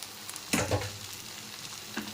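Potato, brinjal and chopped tomato frying on a slow flame, a quiet low sizzle with a couple of nearby stirring scrapes and clatters, no voices.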